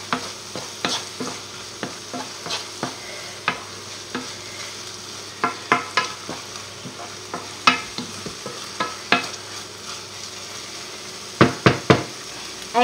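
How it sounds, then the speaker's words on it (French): Food with pepper and herbs being stirred in a frying pan for a three-cheese soufflé dish, with repeated sharp scraping knocks from the utensil over a steady sizzle, irregular but frequent, close and clear. "Là, on remue."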